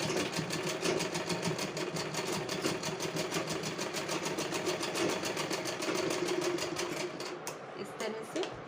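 A sewing machine stitches along one side of a girl's fancy top, running in a fast steady mechanical rattle close by for most of the stretch before slowing and stopping near the end.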